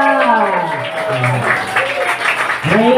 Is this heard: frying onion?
no